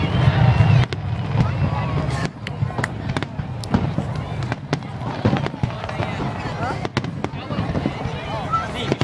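Fireworks bursting in a steady barrage of sharp explosive cracks and booms, some close and loud, over crowd murmur, wind and background chatter.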